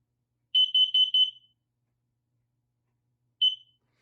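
A combined smoke and carbon monoxide alarm under test gives four quick, loud, piercing beeps in a row, falls silent for a couple of seconds, then sounds one more identical beep.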